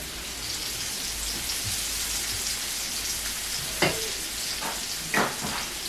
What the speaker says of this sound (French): Une fois l'ail il est déjà un peu doré, on va mettre la sauce de tomate.